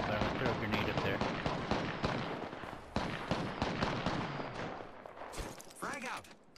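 A video game firefight in which a frag grenade gets lobbed up to a higher spot, with dense, continuous bursts of gunfire and blasts, a heavy boom near the end, and players talking over the noise.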